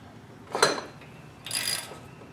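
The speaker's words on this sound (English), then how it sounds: "then you can take your ratchet" A ratchet snugging a bolt during a generator compression repair, two short bursts of metallic clicking about a second apart, close and fairly clear over faint background noise.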